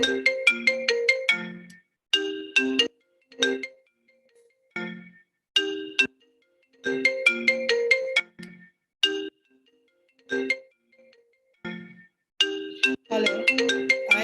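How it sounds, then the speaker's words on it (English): A Skype call ringtone rings repeatedly during a live webinar, its bright melodic bursts recurring in regular phrases separated by short silences, loud and clear with no talking over it. "I don't know why this is ringing."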